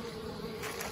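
Honeybees flying in and out of an Anel hive on a hot day, a brief, steady buzzing drone heard close and faint.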